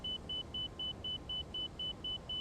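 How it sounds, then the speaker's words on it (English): Ten short, evenly spaced cockpit warning beeps sound in X-Plane 12 during hand flying of a Toliss airliner, steady and fairly faint over a low background rumble, with no talking. "This beeping is very strange, but that's fine."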